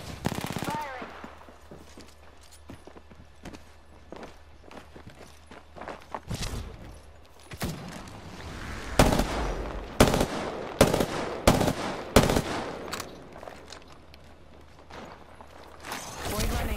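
Automatic weapons rattle in bursts during an Apex Legends firefight, with sharp shots and rapid volleys growing louder and denser in the second half, alongside footstep-like clatter and talk.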